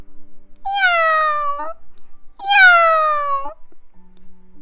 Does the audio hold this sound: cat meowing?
yes